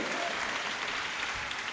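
Church congregation applauding during a Spanish-language sermon, a dense, steady burst of clapping from a large crowd that fills the whole moment.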